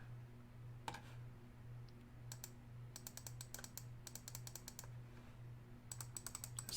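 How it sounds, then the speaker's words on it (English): Left mouse button clicked again and again during 3D modeling work, crisp small clicks in short irregular bursts of rapid taps over a steady low electrical hum, no voices. "Just left clicking again and again."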